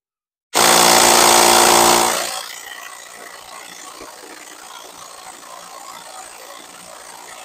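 A 12-volt Hyper Tough impact driver on a car's lug nuts, a loud buzzing run for under two seconds, then a quieter lingering hum.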